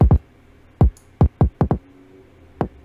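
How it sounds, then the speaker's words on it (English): Seven dry, punchy kick drum thumps with a clicky attack, soloed and filtered to the top end only, spaced irregularly, with a thin, bright top and little low boom. "I'm gonna solo the kick and let's hear it."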